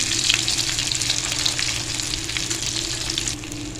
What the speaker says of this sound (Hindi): ये लें जी, टिक्कियाँ हमारी फ्राई हो चुकी हैं दोनों साइडों से।